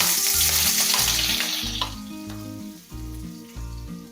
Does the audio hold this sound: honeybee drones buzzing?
no